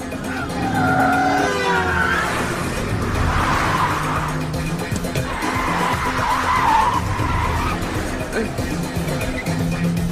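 Car tires skid and squeal during a car chase in a Hindi-dubbed action movie, with loud sustained screeching and engine roar throughout and someone talking over it.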